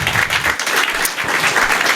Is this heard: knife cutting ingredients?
no